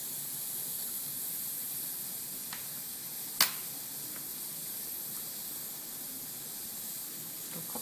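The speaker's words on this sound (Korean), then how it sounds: "엄청난 증기가 나오죠." Steam hisses continuously from a Stellar Passione moka pot tamped with espresso-machine coffee, a steady faint spray with one sharp click partway through.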